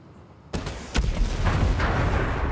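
A rocket launcher fires in the video game Ghost Recon Breakpoint, giving a sudden loud blast and then a second heavy boom that rolls into a sustained rumbling roar.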